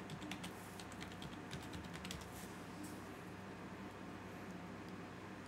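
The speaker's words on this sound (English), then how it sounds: "So let's just type in spool holder." Fingers type a search on a computer keyboard, producing close, quick clusters of light key clicks over a steady background hiss, with no talking.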